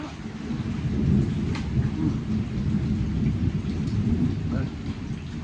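Steady, dense rain roars close by with low rumbling thunder underneath, a continuous wash of noise that never lets up.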